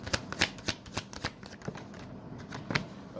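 Tarot cards being shuffled by hand make a quick series of soft, papery riffles and flicks. The sound is close but quiet, with no talking over it.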